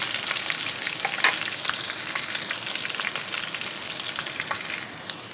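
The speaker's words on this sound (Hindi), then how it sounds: "आपने आधा चम्मच अदरक लहसुन का पेस्ट डाल देना इसमें, और इसको अच्छे तरीके से हिला लेना कि ब्राउन हो जाए।" Onions sizzle in a pan with ginger garlic paste, a steady dense crackling fry with small pops, close and continuous with no talk.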